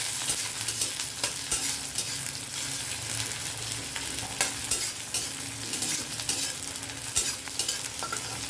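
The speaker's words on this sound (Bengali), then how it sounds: "পেঁয়াজটাকে আমি হালকা লাল করে ভেজে নেব।" A medium chopped onion frying in oil until lightly browned, an even sizzle with repeated spatula scrapes and stirs at close range.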